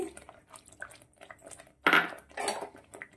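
A bowl that held ground cashews and raisins is rinsed and its water poured into a pan, with a few light clinks of utensils followed by a short splash and pour of water.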